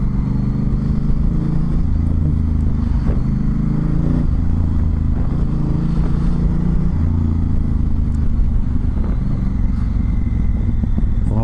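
A Honda Africa Twin motorcycle with DCT gearbox is ridden, its engine droning steadily with shifting pitch and rough road clatter underneath, continuous and loud without talk.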